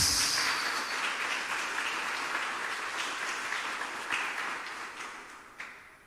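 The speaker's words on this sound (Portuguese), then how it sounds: "Dê um aplauso bem forte ao Messias." A church congregation applauds for about six seconds during a Portuguese-language worship service, a dense, steady wash of clapping that tapers slightly toward the end, with no voices on top.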